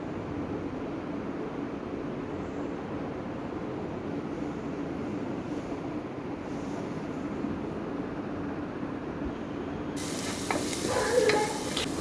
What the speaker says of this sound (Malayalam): കുറച്ച് വെളിച്ചെണ്ണ ഒഴിച്ച് അതിലേക്ക് ഉള്ളിയിട്ട് ഇട്ട് വഴറ്റുക